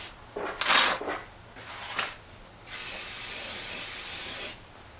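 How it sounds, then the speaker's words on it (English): Spray coating applied to a silicone rubber raceboat mold: several short hissing bursts followed by a long steady spray of about two seconds, close and fairly loud, with no voices. "They recommend you spray a coat on and use a soft brush and brush it all around"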